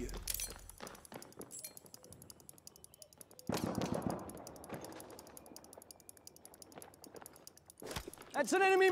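Enemy machine gun fire in a Battlefield 1 Argonne Forest match comes as intermittent rattling bursts over mechanical clicks and game noise, with a loud flurry near the end.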